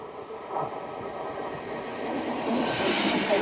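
A train passes along a seawall on the seafront at Sprey Point, rumbling at a moderate distance and swelling slightly louder toward the end, with wind buffeting the microphone.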